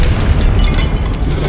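Confringo fire-blast spell exploding in the video game Hogwarts Legacy, a loud, sustained burst of booming, crackling noise with strong low rumble and no pause throughout.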